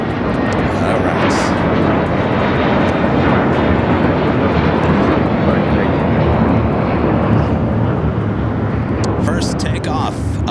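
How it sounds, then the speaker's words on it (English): An Air Canada Airbus A330-300 taking off from runway 25 right at LAX: a loud, sustained roar of jet engines with broad rumble, heard steadily throughout with a voice faintly present near the end. "First takeoff of the stream, Air Canada Flight 776. It's an A330 300."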